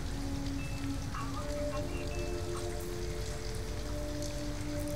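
Steady rain falls in the video game Detroit: Become Human, an even, continuous hiss of drops on surfaces over a low ambient hum, with no speech.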